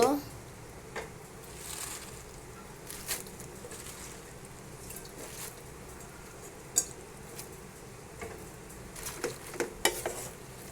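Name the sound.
stirring Malabar spinach frying in a pan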